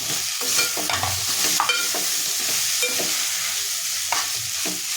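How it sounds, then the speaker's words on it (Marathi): Grated pumpkin sizzling in ghee in a pan, with a spoon scraping and stirring in irregular strokes, close and clear over a steady frying hiss. "तुपामध्ये चांगलं भाजून घ्यायचं आहे"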